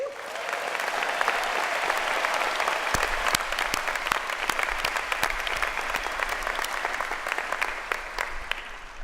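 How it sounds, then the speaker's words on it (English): A large audience at the 2013 Berkeley MBA commencement applauds the graduating class, a dense, steady roar of clapping that holds at full strength for about nine seconds, with no one speaking over it. "a big round of applause and congratulations to all the graduates"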